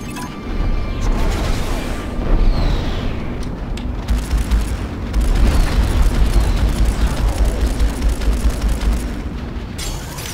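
Turrets on an enemy cruiser blow up during a space combat battle in the game Strike Suit Zero, heavy rumbling booms rolling continuously and loud over a dense, noisy game soundtrack.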